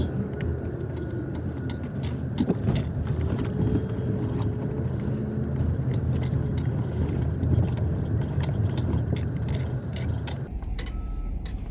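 A truck hauling construction demolition waste rolls up to the transfer station scales, steady engine rumble with clanking and rattling throughout, then a quieter pause near the end.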